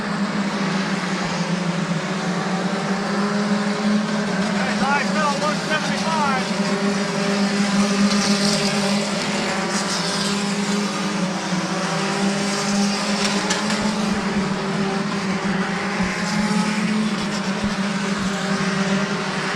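Race cars lap Midvale Speedway in a steady, continuous engine drone that stays loud throughout, with voices talking over the roar.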